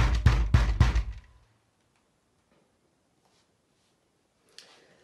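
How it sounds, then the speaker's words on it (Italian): Three loud, heavy knocks strike a house door in quick succession, then fade into near silence before a faint later thump, an audiobook sound effect. "fu bussato così forte alla porta di casa"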